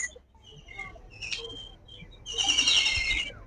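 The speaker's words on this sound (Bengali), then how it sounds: "মিষ্টি মধুর পাখির যে ডাক, সেই ডাকগুলো শুনতে থাকুন আপনারা।" Birds call and chirp outdoors near a riverside village, with bright high chirps and short trills rising over a soft ambient hiss, loudest in a dense burst toward the end.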